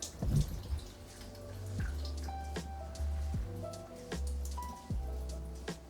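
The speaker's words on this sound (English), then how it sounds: "I am draining all the excess water off of my zucchini apples." Excess water drains off cooked zucchini pieces prepared as mock apples, giving steady dripping and splashing with small spattering bursts over a continuous tonal backing.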